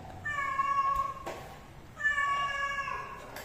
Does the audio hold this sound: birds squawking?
no